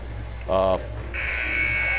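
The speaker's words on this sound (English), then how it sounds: "There's the buzzer." A short electronic buzzer sounds once at a girls' varsity high school basketball game, loud over gym ambience, followed by a higher steady electronic tone.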